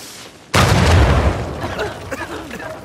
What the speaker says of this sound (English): Now we know what caused the explosion we heard earlier.